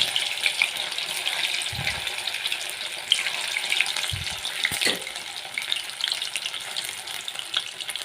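Leftover idli bondas sizzle in hot oil, a steady bright crackling hiss with a few soft low bumps as pieces are moved around.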